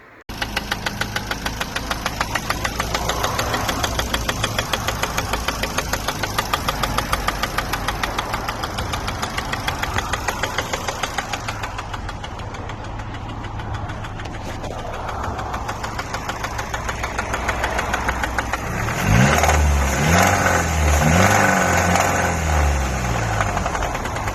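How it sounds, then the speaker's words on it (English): Ford Focus Mk1 engine with failed bottom-end bearings worn down to the copper, knocking in a rapid, steady metallic rhythm at idle for about twenty seconds, then louder and rougher as the revs change near the end, with no talking. "what's happened there is the bottom end has completely gone on his car. The bearings are obviously shot and down to the copper."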